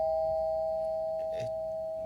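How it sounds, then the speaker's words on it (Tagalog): A home doorbell sounding as one long, steady electronic tone held for about two seconds, loud and close, with a faint brief shuffle partway through. "Teka lang, doorbell ko nga ulit."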